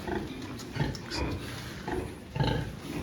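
A sow in a farrowing pen gives several soft, low grunts spaced irregularly over a few seconds, close by and fairly quiet, over a dim background.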